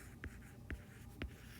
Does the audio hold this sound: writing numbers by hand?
yes